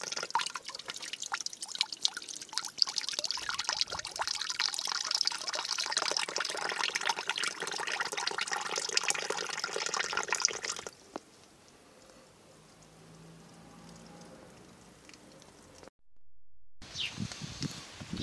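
Rusty, dirty water pours and splashes out of a tank being de-rusted, a loud continuous gushing flow that drops abruptly to a quieter trickle midway, then briefly cuts out before resuming.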